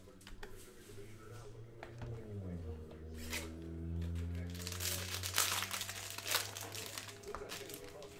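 A cello pack of 2017-18 Panini Donruss Optic basketball cards is torn open. The plastic wrapper crinkles and crackles close up while someone talks over it.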